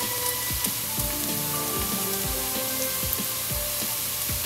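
Chopped garlic tipped onto softened, translucent onion frying in a pan for homemade tomato soup, giving a loud, continuous crackling sizzle with small spits and pops throughout.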